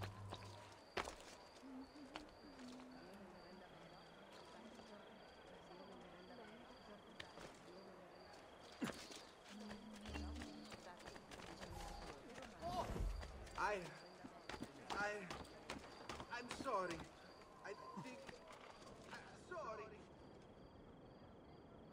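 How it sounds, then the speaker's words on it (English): Horses in the Assassin's Creed 2 video game, their hoof clops and footsteps moving through a city scene beneath game ambience and spoken voices. "Horses, perhaps?"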